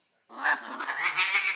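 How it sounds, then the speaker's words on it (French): An angry cat lets out a long, wavering caterwaul that starts abruptly after a moment of quiet and stays loud and close throughout. "C'est pas possible, c'est un chat méchant, ça."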